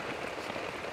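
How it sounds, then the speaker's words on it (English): Heavy monsoon rain pours down in the Malaysian jungle, a dense, steady hiss of drops on foliage and surfaces filling the whole short moment without pause. "You don't see rain like this in the UK."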